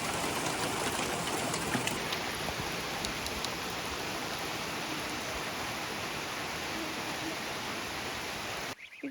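Rain falls on an Alaska homestead garden with cucumber plants, a constant soft wash of hiss that fills the whole stretch with no speech before cutting off at the end.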